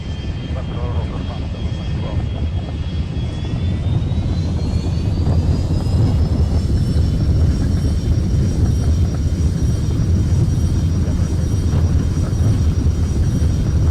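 Airliner jet engines spooling up on the takeoff roll in the mobile game Airline Commander, a loud, steady roar with a rising whine that climbs then holds, continuous throughout.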